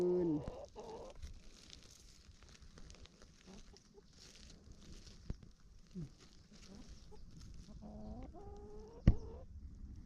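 Egg-laying hens cluck and a rooster calls amid quiet backyard farmyard ambience, with a sharp knock or thump near the end.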